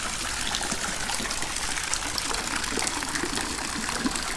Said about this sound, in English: beautiful water feature.